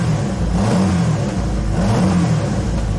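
A car engine fitted with Weber carburetors revs at steady mid-range speed, a loud continuous growl with rising and falling throttle surges, close up and with no voices.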